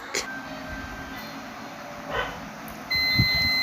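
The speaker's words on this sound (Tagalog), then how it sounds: "Meron din siyang sound beep." A multimeter continuity check on the LED backlight strip of a Pensonic 32-inch TV gives a steady, thin electronic beep that starts abruptly near the end and holds over a faint background hum.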